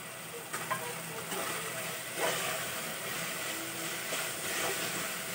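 Ginger garlic paste and chopped tomato sizzle in a pan, a soft continuous frying hiss with occasional stirring scrapes, moderately quiet and without talk.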